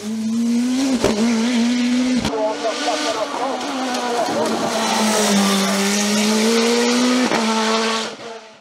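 Revolt 3P0 1.7-litre turbo race car at the Turckheim–Trois-Epis hill climb, a loud, close engine howl with gear-change dips and sharp cracks, pitch climbing and falling as it drives hard, then fading at the end.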